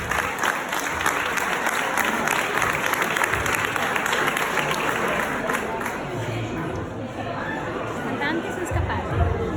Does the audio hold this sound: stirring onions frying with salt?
no